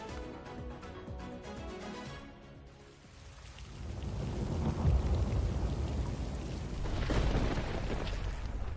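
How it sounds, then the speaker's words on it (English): Heavy rain pours down in Delhi, a steady dense hiss of falling water with low rumbling swells, continuous throughout and without talk. "A fresh spell of rains,"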